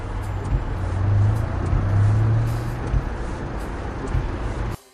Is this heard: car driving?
yes